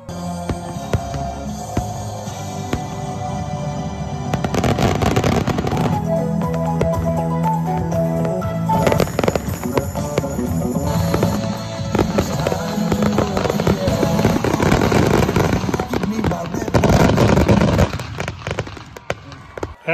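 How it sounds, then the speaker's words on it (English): Fireworks pop and boom in rapid, uneven bursts at an evening show in St. George, with crackling explosions layered over a continuous rumble. "A rousing fireworks show capped off the evening."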